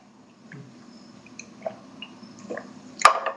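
Someone drinks water in a quiet room: faint wet clicks and small swallows build up to a louder, close gulp near the end, with no talk.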